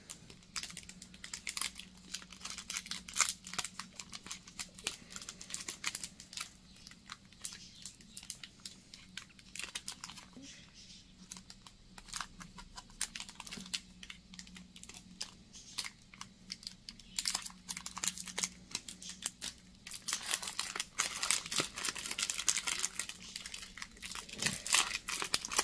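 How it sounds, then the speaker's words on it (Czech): Pokémon trading card booster packs from a Paldean Fates Elite Trainer Box are torn open and unwrapped, making dense crinkling, tearing and crackling foil noises in irregular close bursts throughout, with no talking. "A nyní si začneme rozbalovat jednotlivé balíčky kartiček."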